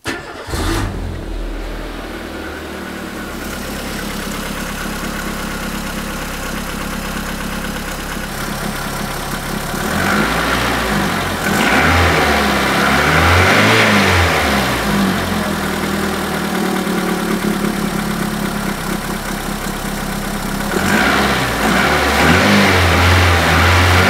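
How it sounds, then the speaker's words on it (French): A car engine with a new spark plug, ignition cable and coil cranks and catches, then idles and is revved in repeated rising surges, loud and close, with a slightly uneven running note. "Nouvelle bougie, nouveau câble, nouvelle bobine. On teste. Allez, démarrage."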